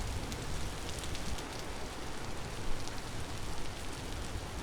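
Steady rain falls in the video game Vintage Story, a dense, even hiss of drops on surfaces that stays constant throughout, with no voices over it.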